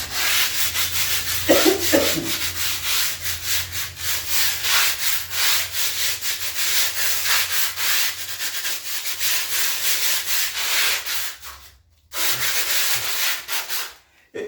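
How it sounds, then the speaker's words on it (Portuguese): Coarse steel sandpaper rubs over plaster in a fast, continuous back-and-forth rasp, loud and close, pausing briefly near the end before resuming. "Eu tô quebrando um pouco com lixa de ferro. No caso, com lixa de aço, né? Um pouco grossa mesmo."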